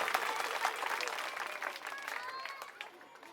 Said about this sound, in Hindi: आज की सभा के लिए जोरदार तालियां अपने लिए बजा दीजिए